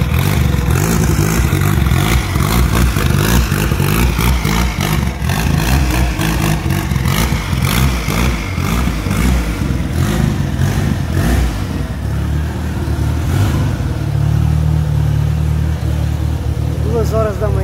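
A turbocharged VW Gol with a side-exit exhaust revs loudly and close up, its engine rising and falling in repeated pulses with rattly clatter, while a voice speaks briefly over it.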